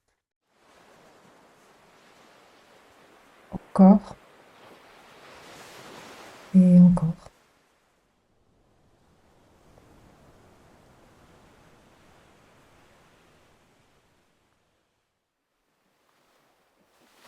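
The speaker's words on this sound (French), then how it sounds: "Et au loin, tu entends les vagues" Gentle ocean waves roll in and draw back as a soft, distant wash of surf beneath a calm, slow-speaking voice, swelling twice and then easing into a quieter, steady hiss.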